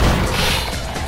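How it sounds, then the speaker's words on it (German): A weapon reloads in Vampire the Masquerade Bloodlines: a single short, loud mechanical clatter of metal parts shifting and locking into place, heard alone. "Nachladen"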